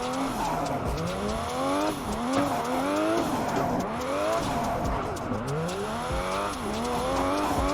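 A car drifts through corners in the racing game Assetto Corsa, the engine note swooping up and down repeatedly while tires squeal and skid, loud and close throughout.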